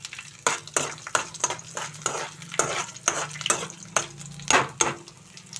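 Garlic cloves and amaranth greens frying in a pan, with a steady sizzle under repeated stirring strokes and scrapes that come in a loose rhythm, close and moderately loud.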